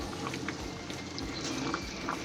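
Potatoes boiling in a pot of water on a stove, a dense, steady bubbling and churning roil heard close and continuous, with no voices.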